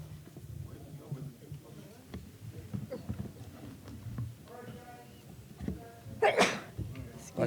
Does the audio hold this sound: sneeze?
yes